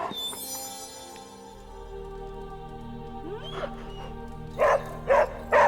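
A dog barking in the video game Marvel's Midnight Suns, three short, sharp barks near the end, loud and close, after a stretch of soft game ambience and music tones.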